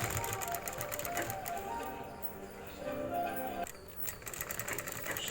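A sewing machine stitches a shirt collar with a close, fast, even whirring rattle that pauses briefly near the end and then starts running again.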